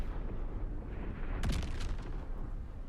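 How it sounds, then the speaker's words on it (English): A Nautiloid airstrike in Baldur's Gate 3 lands as a sudden rumbling blast with a crackling, gunfire-like burst midway, over a dense low background roar. "Yeah, Nautiloid airstrike."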